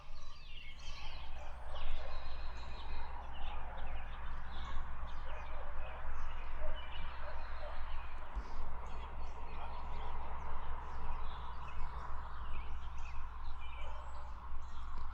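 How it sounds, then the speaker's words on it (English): Birds call and chatter continuously in a swampy, overgrown ghost town, a dense, moderately distant chorus with gobbling, fowl-like notes over a low, steady background hum. "There's so many birds around here."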